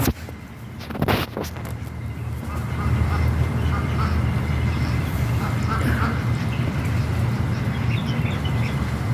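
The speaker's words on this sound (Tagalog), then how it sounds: "pakita ko sa inyo yung mga alaga namin pato" Pet ducks quack in a home garden with a peacock nearby, a few nasal calls standing out over a steady low outdoor hum, with a brief loud thump early on and a person talking intermittently.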